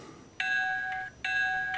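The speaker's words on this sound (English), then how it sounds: "We've got our bell." Digitrax DCC sound decoder bell in a Bachmann GP35 model locomotive, two clear electronic ringing tones, each held about two-thirds of a second with a brief gap between, close and moderately loud against quiet.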